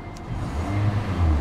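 A 2005 Pontiac Vibe with a 1.8-liter engine and 131,000 miles revs steadily from close by, a low engine drone that swells near the end with no talking.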